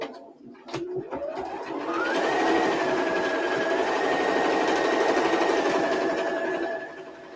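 A sewing machine stitches fabric for a quilted layer-cake project, its motor winding up after a few seconds into a steady, continuous whirring hum that cuts off near the end.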